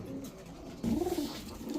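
A large male pigeon gives a low, throaty coo, a single rolling call close by over faint background noise.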